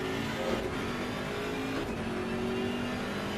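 A BMW M6 GT3 race car engine in Assetto Corsa Competizione at Paul Ricard drones loud and steady from an onboard perspective, with a slight rise and dip in pitch as it accelerates.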